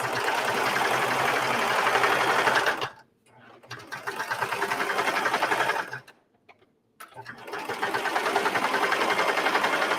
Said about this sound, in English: I'm going to sew around the neck with the same 3/8 inch seam allowance